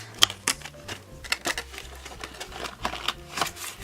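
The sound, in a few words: opening a package of star-shaped Christmas lights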